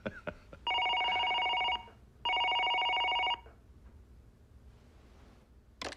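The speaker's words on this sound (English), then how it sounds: "Congressman Stratton is on the phone." A telephone rings in a Pentagon office: two electronic ringing bursts of about a second each, separated by a short pause, loud and close, followed by quiet room tone with no talk.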